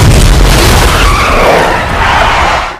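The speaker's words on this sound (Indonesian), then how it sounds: "mobil yang menabrak itu kembali mendekat dan menabrak lagi" One car rams another in a loud crash, a violent crunching boom with skidding and scraping that fills the whole stretch before cutting off abruptly.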